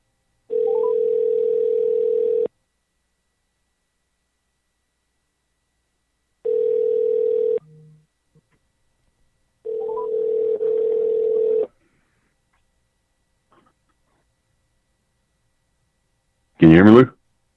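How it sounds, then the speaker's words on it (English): A steady telephone dial tone sounds in three separate bursts of about two seconds each, with silence between, while a caller is added to a call; a brief burst of talk comes near the end. "I'm going to add Brett in, okay"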